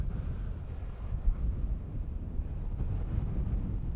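Aircraft on approach to runway 18R at Amsterdam Schiphol airport in crosswind conditions, heard as a steady broadband engine roar mixed with wind buffeting on the microphone, continuous and moderately loud throughout.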